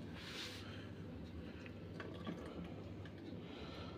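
Liquid pours into the container of a Ninja ice cream machine, a soft, continuous trickling fill with a few faint drips, quiet and close with no talking.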